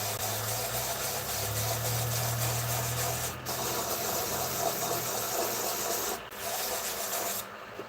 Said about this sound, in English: I'm just trying to get a smoother shape going with the 80 grit